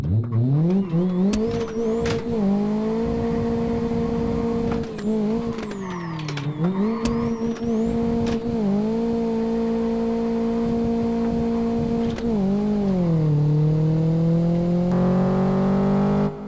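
Renault Megane engine in a driving game, revving steadily on the highway with sustained harmonic drone, pitch rising and dipping through gear shifts, with brief tire squeal mixed in, loud and continuous throughout.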